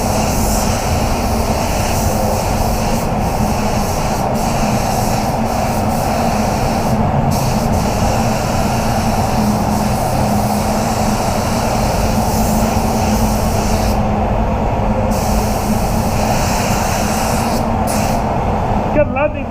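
An ANIR 150 mini spray gun sprays clear coat over chrome parts, producing a loud, continuous airy hiss that holds steady for the whole stretch with only slight changes.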